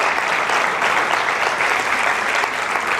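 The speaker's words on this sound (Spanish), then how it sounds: "Le damos un aplauso a Dios esta tarde." A church congregation claps together for God, a dense, loud burst of applause that fills the room evenly for a few seconds without speech.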